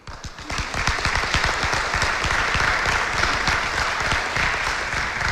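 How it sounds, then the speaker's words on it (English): Sustained, dense applause from a ceremony audience honoring an occupational therapy graduating class, many hands clapping steadily and loudly for several seconds. "So you should give yourselves a round of applause for that"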